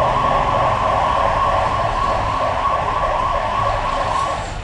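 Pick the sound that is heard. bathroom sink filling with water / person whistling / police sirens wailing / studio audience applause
police sirens wailing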